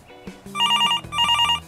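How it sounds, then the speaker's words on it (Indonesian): A phone ringtone in the video game GTA 5 rings close and loud in two repeated electronic bursts, with a brief tonal lead-in before them. "Wah, ada telepon."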